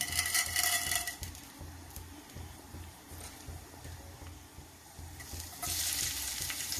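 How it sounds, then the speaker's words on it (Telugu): Tempering seeds fry in hot oil for rajma chaat, a steady close crackling sizzle with stirring scrapes, flaring brighter near the start and again toward the end. "తాలింపు గింజలు వేస్తున్నానండి."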